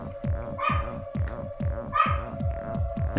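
Dogs barking indoors at someone arriving, a run of repeated close barks in a steady rhythm over a constant low electrical hum, with no talking.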